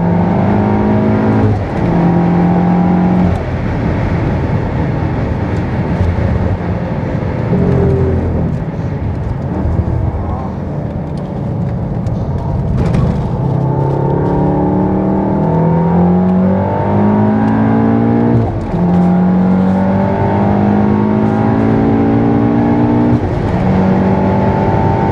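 A tuned Stage 3 Volkswagen Golf R driving hard around a slippery race track on new wheels and tyres, engine droning and rising and falling through gear changes, loud and continuous with no talk.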